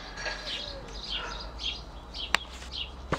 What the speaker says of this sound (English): the birds start singing